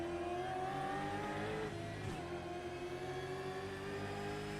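Pack of V8 touring race cars in the Bathurst pit lane of a racing simulation, engines droning loud and steady with layered harmonic tones, one car's pitch dipping briefly mid-clip, no talk.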